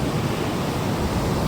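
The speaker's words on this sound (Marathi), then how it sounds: "फक्त समुद्राचा आवाज." Sea waves rolling onto Kalvi beach on the Konkan coast, a steady broadband wash of surf close by, continuous and unbroken with a light hiss of wind and no voices.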